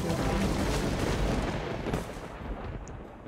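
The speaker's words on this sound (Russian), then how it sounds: "Ну хотя взрыв не такой же большой на самом деле." A game explosion in Magic Ball 3 bursts as a loud, broadband crackling blast that rumbles on and slowly thins out over a few seconds, with no speech over it.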